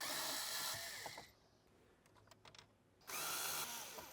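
A power tool drives a 7mm socket to remove bolts while a Tesla-style head unit is fitted into an S550 Mustang. Two loud close whirring bursts sit at the start and end, with quiet ratcheting clicks in between.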